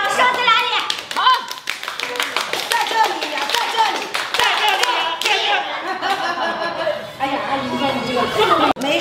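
Several people clap in quick, uneven bursts around a dinner table during a welcome-home meal, mixed with lively chatter, laughter and a voice close by.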